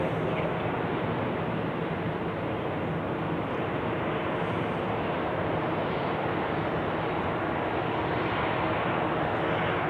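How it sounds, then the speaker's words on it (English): A specially liveried Royal Air Morocco Boeing 737 taxiing toward the de-icing pad at Zurich Airport on a winter day, a steady, continuous engine roar with broad rumble that holds level throughout, no talk over it. "Special liveried Royal Air Morocco 737 is now on the way to the de-icing pad as well"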